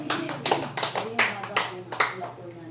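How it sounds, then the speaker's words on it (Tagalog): Hands clap in a few loud, separate bursts at a Catholic evangelization gathering, with a voice speaking between and over the claps. "Malakas na palakpak sa ating Diyos"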